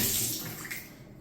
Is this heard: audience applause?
no